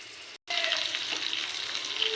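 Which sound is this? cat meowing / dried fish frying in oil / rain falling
dried fish frying in oil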